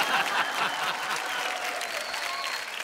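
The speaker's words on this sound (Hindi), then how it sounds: "तालियां।" Audience applause in a Hindi comedy show studio, a dense burst of clapping from a crowd that holds steady for a few seconds.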